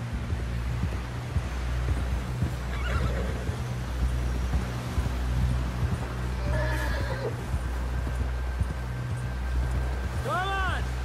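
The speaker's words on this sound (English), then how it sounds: "Someone help John down off this horse" A horse gallops with steady, rhythmic hoofbeats in the video game Red Dead Redemption 2, and a loud, shrill whinny rings out near the end.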